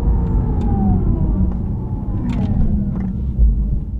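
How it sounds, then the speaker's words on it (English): Synthetic electric sound inside a Porsche Taycan Turbo as it slows down, a sustained whirring hum with tones gliding gently downward over road rumble, a few faint clicks, no talking. "And even when you're slowing down, you get a lot of those cool electric car sounds."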